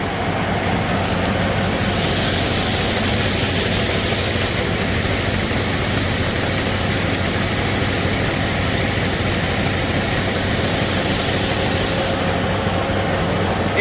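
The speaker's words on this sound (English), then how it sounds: "The grain just keeps flowing down into the auger, takes it up to a central point" A grain auger runs continuously while lifting grain out of a grain bag, a loud, steady mechanical roar with a broad rushing hiss and low engine drone, unbroken throughout.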